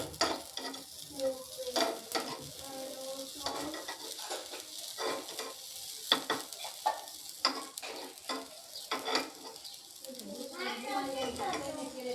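Appe (appam) batter frying in a pan on a gas stove, with soft sizzling and scattered stirring and clinking as the pieces are turned, heard up close beneath intermittent talk.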